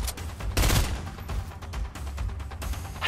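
Gunfire rattles in a Fortnite Chapter 2 ranked hide-and-seek match, a loud burst of rapid shots near the start followed by scattered quieter pops in quick succession.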